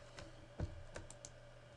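A few quiet keystrokes tap on a computer keyboard while code is typed, sparse irregular clicks heard faintly and close, with no talk.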